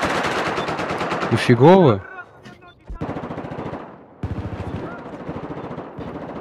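Gunfire in a shooter game, a rapid burst of automatic shots up front followed by further rattling bursts, with a voice briefly speaking over it.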